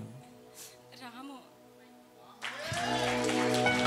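Someone speaks briefly during a church sermon and then applause swells up and keeps going, with many people clapping loudly toward the end.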